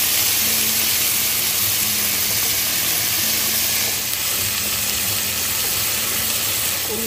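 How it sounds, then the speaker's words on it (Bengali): Small prawns with chopped tomato and salt fry in a frying pan with a loud, continuous close-up sizzle that stays steady and unbroken throughout. "তা এখন নুন দিয়ে এটাকে আমরা ফ্রাই প্যানের মধ্যে ভাজা ভাজা করছি"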